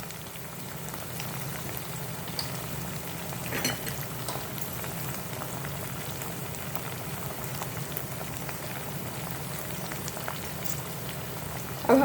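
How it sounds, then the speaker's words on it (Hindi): Paneer chilli with ketchup and soy sauce sizzles steadily as it is stir-fried in a pan, a continuous close frying hiss with faint stirring scrapes throughout, no talking. "अब हम इसे अच्छे से स्टर फ्राई करेंगे।"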